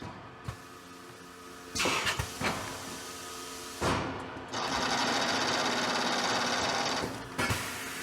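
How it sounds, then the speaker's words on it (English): Roll stock packaging machine running steadily, with trimming knives and a guillotine knife crosscutting; loud continuous mechanical whirring broken by sharp periodic thumps and clacks of the cutting strokes, no talking. "the knives right here that are doing the trimming, and the guillotine knife that's going to crosscut right here"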